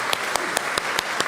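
Slow, evenly spaced claps ring out in a church during a Sunday service, about six sharp beats over a soft background hum, with no talking.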